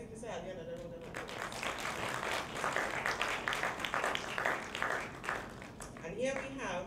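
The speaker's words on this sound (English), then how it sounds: "So let's give Mr. Ali another round of applause." A round of audience applause for Mr. Ali at a youth agriculture symposium, moderately faint clapping that swells and holds before tapering off at the end.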